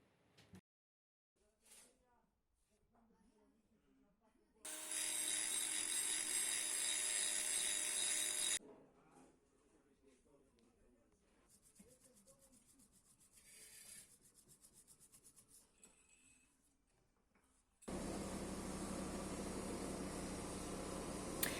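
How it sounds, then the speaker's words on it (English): Hand sanding rasps in bursts on a black San Mai knife blade: a long loud scratchy stretch, quieter intermittent rubbing, then another sustained gritty rub near the end, with some talk between. "Now it's much better, so we can continue the hand sanding."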